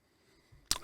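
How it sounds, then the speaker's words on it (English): A short, sharp hiss of a perfume atomizer spraying Gravitas Pour Homme, a gentleman's fougère fragrance, bursting in near and loud after a quiet lead-in. "Let's spray it up."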